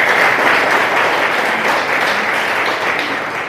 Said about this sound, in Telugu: మీకు సపోర్ట్గా ఉన్న మానవతా పెద్దలందరికీ క్లాప్స్ కొట్టాలి